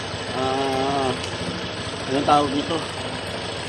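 An automatic scooter engine runs with a rough, rattling, unusually noisy idle close by while a man briefly asks something over it.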